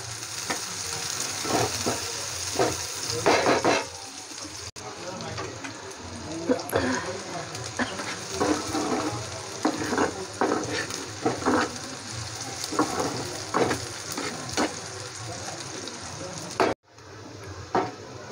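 Chopped onions and green chillies fry in hot oil in a pan, with a steady sizzle and repeated scraping stirs, broken by a brief pause and a splash of running tap water.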